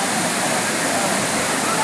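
Courtallam waterfall in full flow, a steady broadband roar of rushing, falling water that fills the scene evenly and continuously, with people bathing below it.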